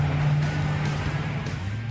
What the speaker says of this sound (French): Quand on démarre, l'habitacle se remplit du bruit du moteur.